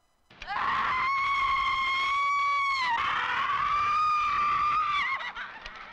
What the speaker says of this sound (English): Her actress gives a good scream.